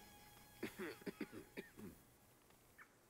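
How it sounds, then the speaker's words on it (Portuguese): Several short, harsh coughs from sick villagers in the video game Farthest Frontier in a quick irregular burst, then one more faint cough after a pause, over a quiet background. "Estão tossindo, todo mundo doente."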